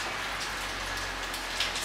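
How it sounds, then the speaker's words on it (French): Steady rain pours outside, a dense, even hiss of drops on surfaces that continues without a break, fairly soft and constant. "il pleut, vous entendez le bruit"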